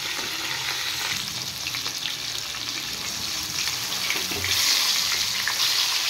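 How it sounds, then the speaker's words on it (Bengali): Fish fry in hot oil with a loud, dense, continuous sizzle that swells into a harsher burst near the end, as if more fish hit the oil. "তেল গরম হয়ে গেছে। এবার আমি মাছগুলো একটা একটা করে ছেড়ে দেব।"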